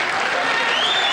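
Sustained applause from a snooker crowd at the 1991 World Championship as Steve Davis wins his first-round match, a dense, even patter of clapping filling the hall.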